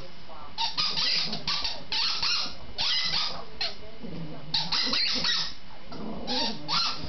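A dog at home giving excited whimpering yelps and barks in short irregular bursts, close and fairly loud, mixed with people talking.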